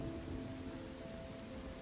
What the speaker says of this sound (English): Only the sound of the storm remained